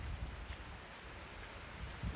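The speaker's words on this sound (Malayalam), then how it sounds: "നല്ല കാറ്റുണ്ട്" Wind at a hilltop viewpoint in the Idukki hills roars steadily across the microphone as a broad rushing noise, with low buffeting gusts near the start and the end.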